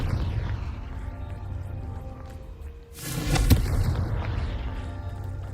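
A Confringo blast spell exploding in the game Hogwarts Legacy, one sudden booming burst about midway that follows a quieter stretch and leaves a lingering rumble behind it.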